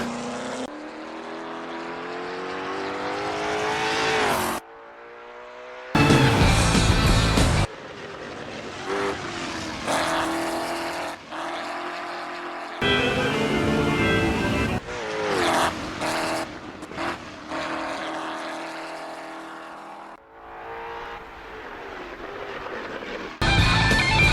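A race car roaring through a lap, engine revving up and down through gear changes, with abrupt cuts and loud passes.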